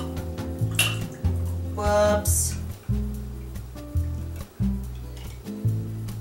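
A Red Hooker cocktail is poured over ice into a glass in a messy, splashing pour, with liquid sloshing and ice clinking in uneven bursts, and a voice exclaims briefly partway through.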